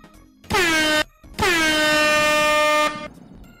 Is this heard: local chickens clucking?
no